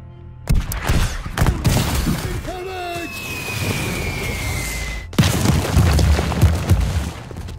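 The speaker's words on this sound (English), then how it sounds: "Here we go, artillery." Artillery barrage in the War Hospital video game: dense booming impacts and crashing blasts, with a whistling tone sliding down mid-clip, then a fresh heavy burst near the end, loud throughout.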